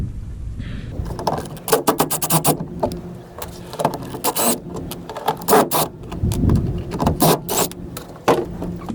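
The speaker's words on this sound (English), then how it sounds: "we just got a little screwdriver right here, and so I'm gonna change these" Small screwdriver working out rusty self-tapping screws, with irregular clicks, scrapes and metallic turning bursts at close range and no talking.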